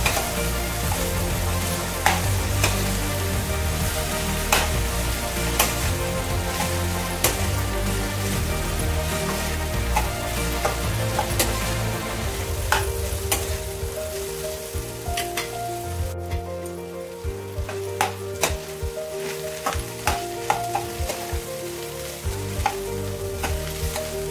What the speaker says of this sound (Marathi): थोडी शिजवायची आहे तेलामध्ये। जोपर्यंत ही शिजत नाही तोपर्यंत ह्याला परतून घ्यायचं आहे